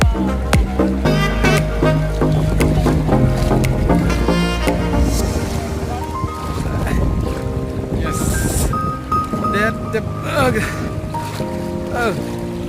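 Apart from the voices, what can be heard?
boat crossing a river with a strong current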